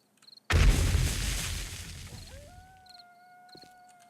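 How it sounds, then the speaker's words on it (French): A pipe bomb detonates in the survival game 7 Days to Die, one sudden loud blast with a deep rumbling tail that fades over a few seconds, followed by faint tonal in-game sounds. "C'est pas la dynamite, c'est une bombe tuyau."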